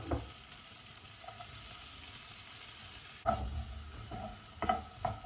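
Onions, potatoes and bell peppers fry in a pan for a shakshuka, with a steady low sizzle and a few louder stirring scrapes and clatters near the end.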